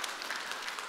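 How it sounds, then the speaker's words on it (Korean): Church congregation applauding together during a Sunday worship service, a steady dense wash of clapping at moderate level with no gaps. "오늘 진짜 하나님께 영광의 박수."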